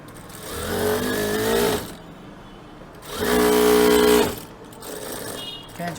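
A sewing machine stitches a waistcoat lining in two loud bursts, each about a second and a half long, separated by quieter pauses, with faint handling noise in between.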